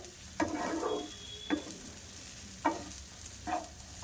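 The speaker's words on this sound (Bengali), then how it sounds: "দিয়ে এবার মিশিয়ে নেব ভালো করে" A spoon scrapes and stirs sabudana khichdi with potatoes and peanuts in a hot pan, four distinct stirring strokes over a soft sizzle, with no talk.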